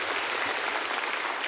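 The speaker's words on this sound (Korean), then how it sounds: "감사의 박수 한번 다시 한번" A church congregation at a Sunday mission service claps warmly for the visiting pastor and missionary, a brief, dense burst of applause filling the room.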